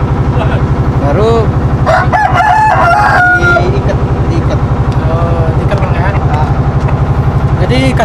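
A fighting cock crows loudly and close by in a long, wavering call, backed by a steady rhythmic engine-like hum, while people talk nearby in Indonesian.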